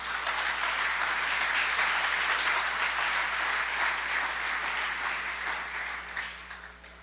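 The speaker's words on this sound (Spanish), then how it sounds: "¿Le puede dar un aplauso a Dios por eso," A church congregation claps together in a dense, sustained round of applause that fades slightly toward the end.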